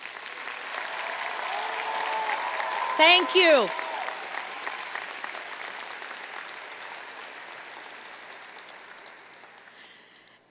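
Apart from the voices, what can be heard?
applause for graduates at commencement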